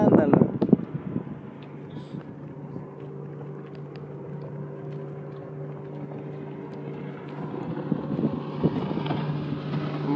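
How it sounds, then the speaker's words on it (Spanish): A motorboat running on the water with a low, steady engine drone heard from some distance, buffeted by wind noise on the microphone while people talk nearby. "A filmar la lancha."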